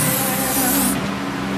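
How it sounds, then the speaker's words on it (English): A short hiss of spray cleaner blasts onto the oily bolt holes of a rear axle during an ARB carrier and ring gear upgrade, close and steady, then cutting off abruptly. "Just kind of giving this a spray to get the oily substances off"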